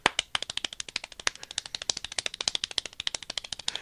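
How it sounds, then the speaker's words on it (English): Group of people clapping their hands in rapid, fast-paced unison while attempting a clapping-speed record, a dense run of sharp claps that keeps going without a break. "Everybody clap your hands."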